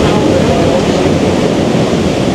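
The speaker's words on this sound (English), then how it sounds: "apparently the waves come right in here" Sea waves surging into a cave on Curacao, a loud continuous rushing wash that fills the space with broad roaring noise, close and unbroken, with no voices.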